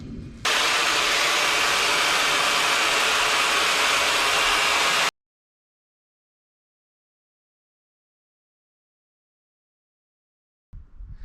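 A Titan pole hedge trimmer cutting a hedge gives off a loud, continuous, close buzzing motor whine. It runs unbroken for about four and a half seconds, then stops abruptly into silence, and a short burst of sound returns right at the end.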